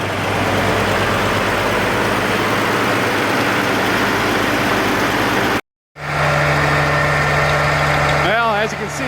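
An Oliver 1550 diesel tractor engine runs steadily nearby with a continuous low rumble and vibration; a brief dropout breaks the sound near the middle, and a rising whine appears toward the end.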